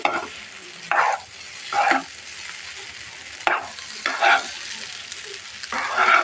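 Noodles with meat and tomato sauce fry in a pan as a spatula stirs, sizzling steadily with bursts of scraping strokes in a loose rhythm, close and moderately loud, no voices.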